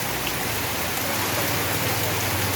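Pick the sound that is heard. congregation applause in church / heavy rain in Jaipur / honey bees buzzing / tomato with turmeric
heavy rain in Jaipur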